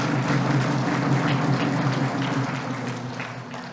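Steady applause from a political rally crowd, dense and continuous for the full length, tapering slightly toward the end.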